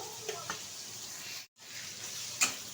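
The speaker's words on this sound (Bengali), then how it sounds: "আর একটু ভেজে নেব।" Soybean chunks frying in oil in a pan, a soft even sizzle with a couple of spatula taps and a sudden brief gap in the middle, quiet and close.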